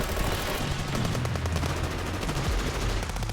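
Covering gunfire in the Path to Nowhere game plays as a dense, continuous rattle of rapid shots, steady and fairly close throughout, with no one speaking.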